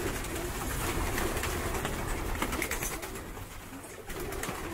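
Racing pigeons in a breeding loft fill the air with dense, continuous cooing and soft rustling, close and fairly loud throughout.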